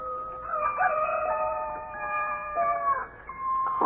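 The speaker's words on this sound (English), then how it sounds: "beckoned by a rooster somewhere, doing his thing" A rooster crows somewhere in the early morning, a clear, drawn-out cock-a-doodle-doo heard alone and at moderate distance in a quiet rural setting.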